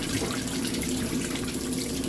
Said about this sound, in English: does that for about 10-15 minutes, fills up more, and it's a very concentrated wash cycle